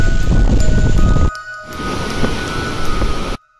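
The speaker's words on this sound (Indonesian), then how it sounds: "gelombang tinggi tidak hanya menggulung perahu speedboat, namun rumah warga juga diterjang ombak bersamaan dengan angin kencang" A dense roar of strong wind and high waves battering an island coast in the Talaud Islands, loud and steady, briefly dipping mid-way before resuming, then cutting off abruptly.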